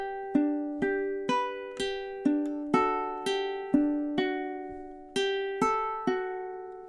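Ukulele strumming measures 3 and 4 of a song, a steady run of about a dozen bright plucked chords, each ringing and decaying before the next, close and clear with no voice.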